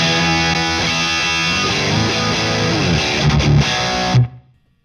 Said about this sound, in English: to your most high gain distortion.